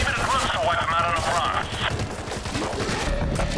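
Rapid bursts of gunfire crackle throughout in the zombie shooter game World War Z, dense and continuous, with a voice talking over the shooting in the middle.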